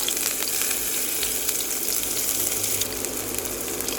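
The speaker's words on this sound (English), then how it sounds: "Once the oil is hot, we are going to add the garlic. Next goes in the ginger." Garlic and ginger sizzle in hot oil in a pan for an Asian-style vegetable stir fry, a loud, steady frying hiss that runs unbroken from start to end with no talking.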